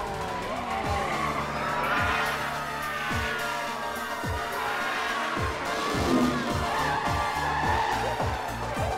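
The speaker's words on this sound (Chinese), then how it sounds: "欧诺特 VX 在过弯的时候抓准了时机，顺利超车，达到了第一位。" Race cars skid through a corner while overtaking, with tires squealing and engines whining up and down in a constant, busy roar and repeated sharp gear-change drops.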